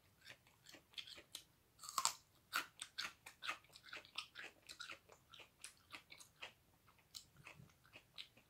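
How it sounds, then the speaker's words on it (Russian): Crunchy salad of grated carrot with garlic and ground red pepper being chewed close up, a steady run of loud, irregular bites and crisp crunches with no talking. "Жевать надо хорошо."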